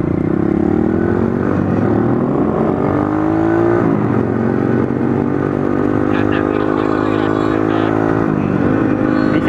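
A pit bike motorcycle engine runs loud and close while being ridden, its steady drone shifting in pitch as the rider works the throttle throughout.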